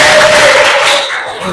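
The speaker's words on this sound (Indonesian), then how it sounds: "Oke, tepuk tangan lagi deh." A classroom crowd cheers and shouts loudly and continuously after a science demonstration, with a dense wash of noise that fades slightly toward the end.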